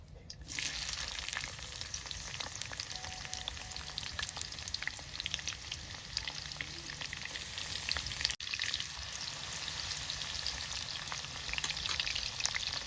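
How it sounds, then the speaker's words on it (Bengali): Capsicum frying in a hot pan for a masala paneer dish, giving a steady, dense sizzle that runs close and loud for the whole stretch with no voices. "আমি এবার ক্যাপসিকামটা ভেজে নেবো"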